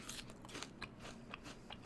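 Repeated crisp crunches from biting into and chewing a crunchy Jazz apple, several sharp cracks close to the microphone in an uneven rhythm over quiet background, no speech.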